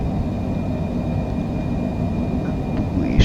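Cessna Citation C700 jet engines roar steadily during the takeoff roll in Microsoft Flight Simulator, a loud continuous rumble with a faint whine above it and a brief thump near the end, no talking.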